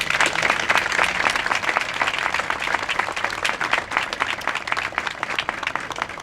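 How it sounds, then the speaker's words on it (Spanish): A crowd applauds continuously, dense clapping from many hands sustained at an even level throughout. "quiero pedir un aplauso para todos"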